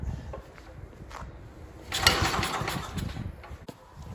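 A Bolens Ride-A-Matic riding mower engine cranks and sputters without catching, with the choke set about a quarter of the way, rough churning bursts rising midway, loud and close, with no voices.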